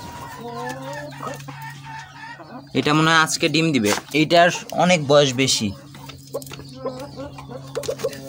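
A Brahma hen calls loudly in a cluster of drawn-out, repeated cries through the middle, with softer clucking around them and someone talking over the calls.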